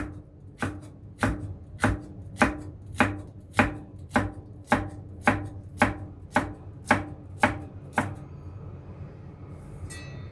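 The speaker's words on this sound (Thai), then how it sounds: "หั่นเป็นชิ้นเล็กๆหน่อย" A knife chops chili peppers on a cutting board in a steady, even rhythm, about fifteen crisp strokes close up, then stops.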